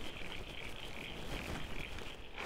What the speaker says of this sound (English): So many frogs calling in this little wet area here. Pretty sure that's Crinia signifera,